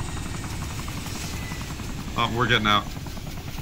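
Helicopter in the Arma 2 DayZ Mod game, its steady rotor and engine drone running throughout at close range while someone speaks briefly over it near the end.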